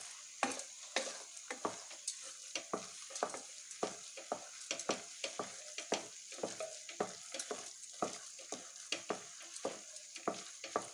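Jaggery heating and melting in a pan for yellow pumpkin pongal gives a soft sizzle, broken by frequent scraping and stirring knocks in an uneven rhythm, quiet and close.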